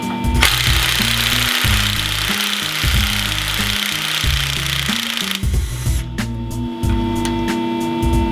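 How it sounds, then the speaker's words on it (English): Power tool working a front brake line bracket off the frame of a 2011–2017 Ford F250 or F350 truck, running in steady loud bursts with pulsing motor tones, pausing briefly and then continuing with sharper intermittent rattles. "I'm going to start by removing this front brake line bracket from the frame here."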